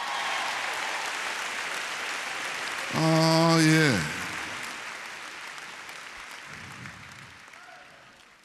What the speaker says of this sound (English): Give them some more applause, y'all.